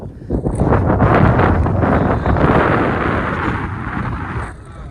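Strong wind at a wind farm near Aralvaimozhi buffeting the microphone in loud, rumbling gusts that roar continuously, then ease slightly toward the end.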